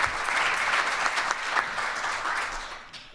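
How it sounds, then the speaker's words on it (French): An audience at a panel on organ transplantation applauds steadily, a dense wash of clapping that holds for a few seconds and then tapers off. "Une bonne main d'applaudissement,"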